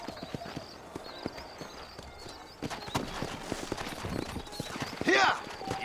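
Horse hooves trotting in the Red Dead Redemption video game, a steady clip-clop rhythm running throughout with a whinny near the end, voices talking over the hoofbeats.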